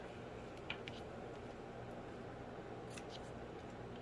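Scissors snip the tails of a ribbon bow on an envelope project, a couple of faint, brief cuts over steady low room noise.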